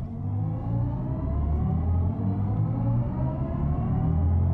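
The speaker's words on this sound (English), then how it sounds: "Launch control active, the car vibrates." BMW i7 electric luxury sedan with 490 horsepower launching hard under launch control, giving a loud, steady whirring drone with a low rumble that climbs in pitch as it accelerates.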